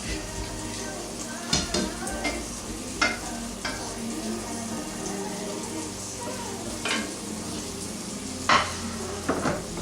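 A spoon stirs three pounds of sausage frying in a pan for a holiday quiche, with a continuous sizzle broken by scraping and clinking against the pan, close and steady.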